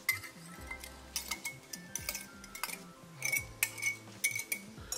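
A spoon stirs parsley flakes, salt, black pepper, red chili flakes and dahi together in a mixing bowl, giving close, irregular clinks and scrapes against the bowl over soft background music.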